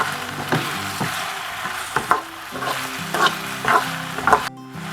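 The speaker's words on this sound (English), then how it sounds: "And then add the coriander leaves and the tomatoes and saute it." Coriander leaves and tomatoes sautéing in a pan, with a steady low sizzle and periodic stirring scrapes and taps of a utensil, close and moderately loud.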